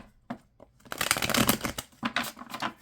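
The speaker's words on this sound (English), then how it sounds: "And let's get a good shuffle." Tarot cards being shuffled by hand, bursts of riffling and rustling close up in quick repeated passes, with brief pauses between them.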